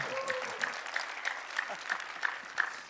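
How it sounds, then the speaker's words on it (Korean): A church congregation claps along in steady rhythm, roughly three claps per second, as a crowd at a worship service; a faint voice is briefly present. "Clap your hands for Jesus."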